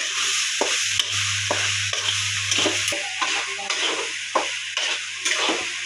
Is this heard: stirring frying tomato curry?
yes